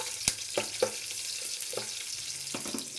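Garlic fries in a pan with a steady close sizzle and crackle, broken by a few spatter pops and scraping stirs, with no one talking.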